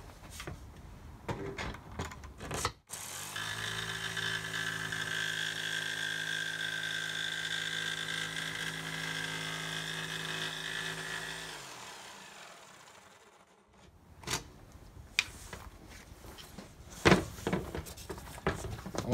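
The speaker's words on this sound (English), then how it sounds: "I'm using a sheet metal bit on my jigsaw" A jigsaw fitted with a sheet metal bit cuts through wood flooring, a sustained buzzing whine that holds steady for roughly nine seconds before winding down, framed by clunks and handling knocks before and after.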